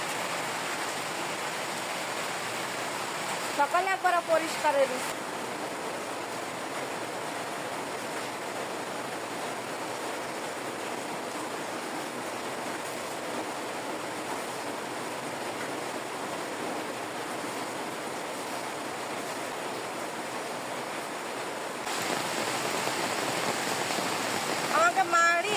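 Heavy monsoon rain pours over a rural farm household, a steady dense hiss filling the whole clip, with a voice speaking briefly over it near the start and again at the end.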